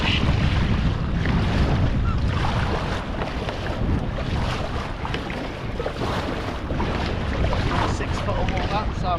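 Ocean surf and wind wash continuously around a Galaxy Wildcat sit-on-top kayak, a loud broadband roar of breaking waves with microphone wind buffeting and occasional talk mixed in.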